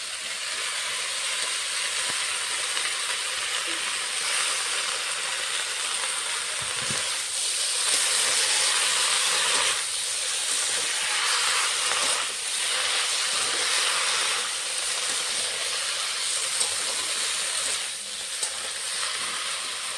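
Fried potatoes and bottle gourd greens sizzle steadily in a hot cooking pan, a continuous close hiss with faint stirring scrapes throughout.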